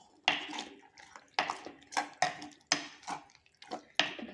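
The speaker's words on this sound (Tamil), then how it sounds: "தண்ணி சேர்த்து கிளறி விட்டுக்கலாம்" Bottle gourd masala gravy being stirred in a pot after water is added, with a series of sharp scraping and clattering spoon-on-metal strokes in an irregular rhythm, close and moderately loud.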